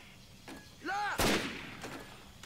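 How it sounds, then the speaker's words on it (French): Gunfire in Medal of Honor: Pacific Assault on Guadalcanal, with loud shots bursting close by and a sharp whizzing sweep just before the heaviest blast, then scattered fainter reports. "Aïe, arrêtez de me tirer dessus."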